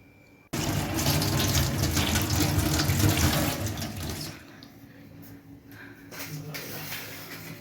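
Running tap water pours over glass tubes being rinsed in a sink: a sudden strong gush for about four seconds, then a softer, uneven trickle.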